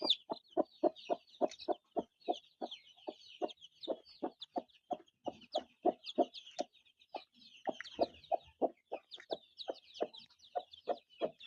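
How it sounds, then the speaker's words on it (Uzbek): About ten newly hatched chicks cheep nonstop, rapid high peeps layered over a regular, pulsing run of low clucks, close and otherwise quiet. "Mana mening 3 kundan keyin chiqadigan tovug'im."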